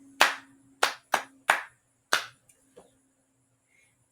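Five sharp hand claps sound close and clear in an uneven rhythm, followed by a couple of faint taps and quiet.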